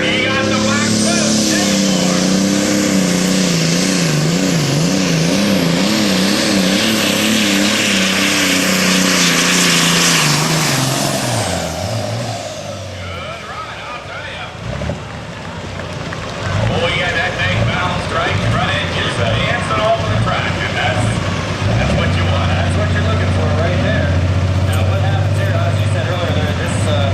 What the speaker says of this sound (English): be able to hear the turbocharger spinning faster.